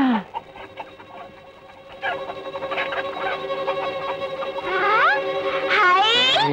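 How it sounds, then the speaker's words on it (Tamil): A chicken clucks and squawks from inside a bag, a steady run of close, busy calls that rises into louder, shrill rising cries toward the end, with no talk over it. "என்ன சத்தம்? அதுதான் கோழி."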